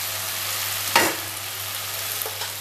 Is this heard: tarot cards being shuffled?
no